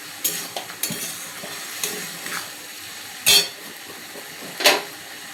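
A spoon stirs a pot of pumpkin, potato and eggplant cooking with mustard, giving sporadic scraping clinks and a few sharper metallic knocks over a soft background, with no one talking.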